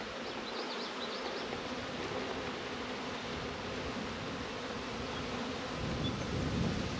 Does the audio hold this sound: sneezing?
no